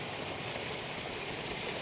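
Heavy rain pours down around a farmhouse at Kundagal, a dense, steady hiss with no breaks and no voices, heard up close.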